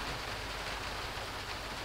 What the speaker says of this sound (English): Raining pretty good out there